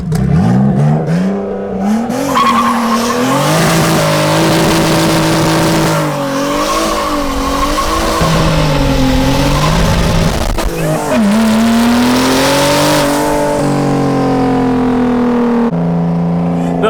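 A loud engine revs hard and repeatedly during a burnout attempt at Hot Rod Drag Week 2024, pitch climbing and falling in long surges with tire squeal and roar, close up throughout.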